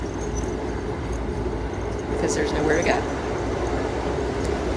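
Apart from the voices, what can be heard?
train running, heard from inside the carriage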